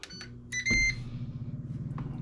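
A few short electronic beeps ring out from an air fryer as its start button is pressed, followed by a low steady hum as it starts running.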